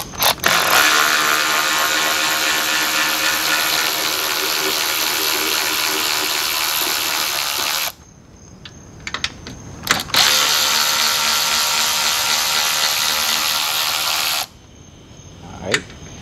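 A powered ratchet spins hard while LED bulbs go into a 2007 Ford Expedition, two long loud buzzing runs of several seconds each separated by a short pause with a few clicks, close by and without talk.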